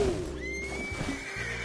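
Horse in the video game Red Dead Redemption 2 letting out a loud, close whinny that rises and holds, with a low background rumble.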